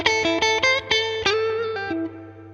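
A distorted electric guitar plays an Albert King style slow-blues lick in A: a quick run of picked notes tumbling downward, each ringing with sustain, ending on a held fading note with no voices.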